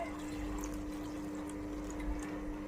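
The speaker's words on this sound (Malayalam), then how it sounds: "എന്നിട്ട് സ്വല്പം വെള്ളം ഒഴിച്ച്" A little water is poured into a cooking pan holding green chilies, turmeric and chili powder for a ripe-banana dish, making a steady, soft, continuous pouring wash with no talking.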